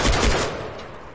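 Burst of close, loud gunfire in Far Cry 3, a few rapid shots at the start that quickly fade into a decaying echo.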